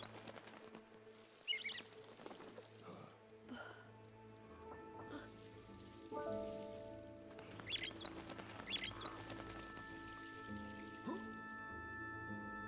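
Small bird chirps and wing flaps in the video game El Hijo, brief soft tweets and flutters set against quiet ambient game music.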